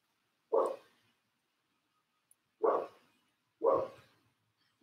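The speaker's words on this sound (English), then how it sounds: "Dog's barking." A dog barks three times at a distance, each sharp bark separated by a couple of seconds of quiet, fairly faint overall.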